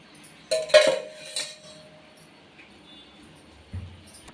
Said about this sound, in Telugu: ఇలా ఇనుప పెనం పెట్టుకొని ఆయిల్ సేమ్ చేప ఫ్రై లాగా చేసుకోవాలి